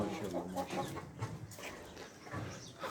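Chickens kept in a shed on a dairy farm give off brief clucks and fowl calls scattered through a busy, noisy background, with faint voices nearby.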